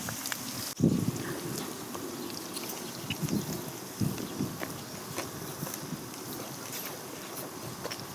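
Wind gusts through swaying bamboo outdoors in a windy spring setting, a faint broad rushing with a few louder gusts and rustles rising and falling, no talk.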